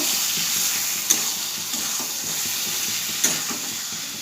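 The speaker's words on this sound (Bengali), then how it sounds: "একটু ভাজা ভাজা করে নেব।" Ridge gourd and potato curry sizzles and fries in a pan with a steady close hiss, broken twice by sharp clinks of a utensil against the pan.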